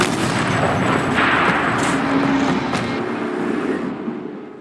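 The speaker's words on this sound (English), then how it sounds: "Rotate turret! And fire!" A heavy turret cannon fires in the Horizon Zero Dawn game, a booming blast followed by a sharp second crack and a long rumbling tail that fades out toward the end.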